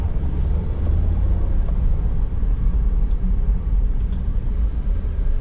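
A 2008 Toyota Rush 1.5 S automatic on a test drive gives off a steady low engine and road rumble heard from inside the cabin, continuous and unbroken with no talking.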